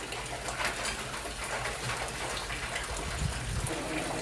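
Ghee-flavoured liquid in a pot, just stirred and coming to the boil before kunji pathiri is added, gives a steady close bubbling and gushing wash with a few low splashes near the end.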